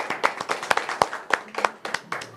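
Scattered applause from a small audience at a televised event, made of uneven, overlapping claps of moderate loudness with a faint voice under the clapping.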